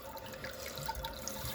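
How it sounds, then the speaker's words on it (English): Water runs steadily into a toilet tank as it refills after the supply valve beneath the toilet is turned back on, a faint, continuous hiss and trickle close by. "So now I'm going to turn the water back on."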